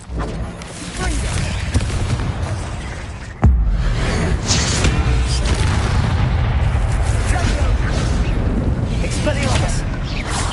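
Confringo blasting spell explosions in Hogwarts Legacy, loud and near, with a sharp blast partway through and dense booming, crackling combat noise continuing throughout.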